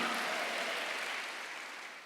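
A church congregation at a Sunday worship service applauds together, a dense, even burst of clapping that fills the room and slowly fades over two seconds.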